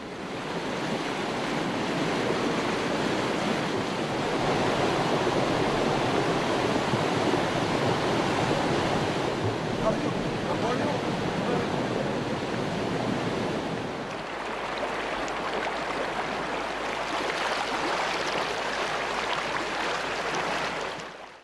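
Rain-swollen wadis in Oman overflow after light to moderate rainfall, producing a loud, steady rush of churning water that continues unbroken with no voices.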